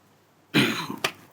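A single harsh cough from a man, a raspy burst followed by a second shorter throaty hack, close to the microphone with no talking around it.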